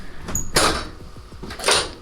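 Hidden doors in a house being handled, with a couple of clattering thumps of opening and closing heard close by and fairly loud, separated by a quieter gap.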